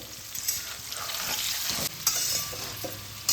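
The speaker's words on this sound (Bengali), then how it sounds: "ফোড়নের মধ্যে আলুগুলো ভেজে নিলে এই যে এলাচ লবঙ্গ দারচিনির এই ফ্লেভারগুলো আলুর মধ্যে খুব ভালোভাবে" Whole potatoes fry in hot oil with cardamom, cloves and cinnamon for aloo dum. The sizzle is continuous and close, and a few sharper stirring knocks break through it.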